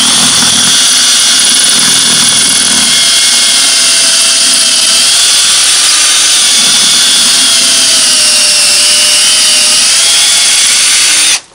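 A power drill whines loudly and continuously while boring into a cinder block wall, its pitch wavering slightly under load before stopping abruptly at the end.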